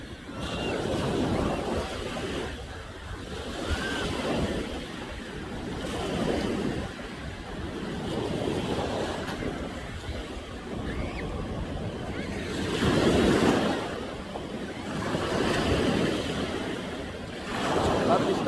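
Ocean waves surge and break along the shore at Saipan under gusting wind and microphone buffeting, swelling and fading in slow cycles, with a voice faintly present.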